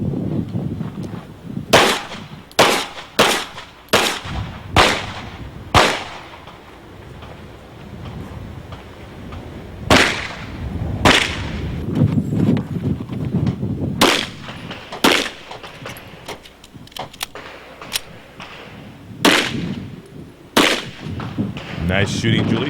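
Sharp pistol shots ring out in quick bursts during an IDPA shooting competition stage, sounding as loud close cracks in strings of several with pauses between, while a faint commentator's voice carries in the background.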